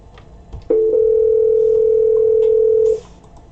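A desk phone sounds a single steady call tone lasting a little over two seconds, loud and clear over faint room noise.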